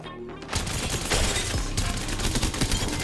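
Dense, continuous automatic gunfire in an Apex Legends match, loud and unbroken for several seconds with overlapping shots and no clear speech.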